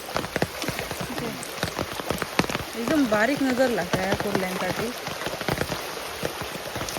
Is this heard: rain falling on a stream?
yes